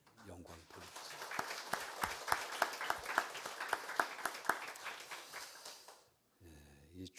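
A church congregation claps together in thanks during a Thanksgiving Sunday morning worship service, a sustained burst of applause lasting several seconds before fading, with a brief voice afterward.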